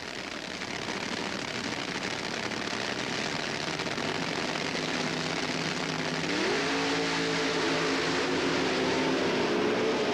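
A loud, steady roar of drag racing engines at the 1977 NHRA Gatornationals rises in pitch as the cars accelerate, heard at a distance without speech.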